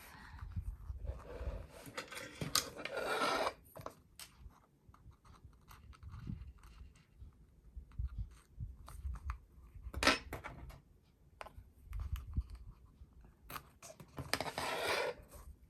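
Scissors snipping through paper while making a scripture journal spread, with a few short, crisp cuts close by, the loudest at the start, in the middle and at the end, against a quiet background.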